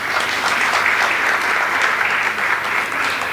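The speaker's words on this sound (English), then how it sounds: "so clap for yourself." Steady, dense applause from a Year 13 graduating class at the Nairobi Academy, a continuous wash of clapping hands filling the room without pause for a few seconds.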